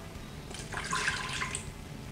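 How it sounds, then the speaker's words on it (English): Apple cider vinegar poured into a slow cooker while beef brisket is being prepared, a soft liquid splash and trickle lasting about a second, near and quiet with no talk. "Next, I'm going to add 1/2 cup of apple cider vinegar."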